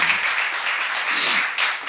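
Church seminar congregation applauds briefly, a short, even wash of many hands clapping at moderate volume.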